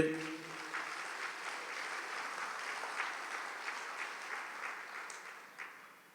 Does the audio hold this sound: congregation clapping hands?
yes